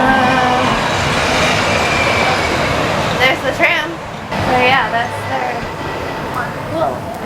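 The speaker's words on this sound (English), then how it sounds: "There's the tram." The MGM Grand hotel tram rolls past nearby with a steady rumble and a few squealing wheel sounds, while people talk over it.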